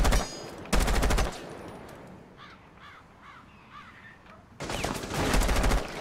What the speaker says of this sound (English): I'm shooting with my pistol!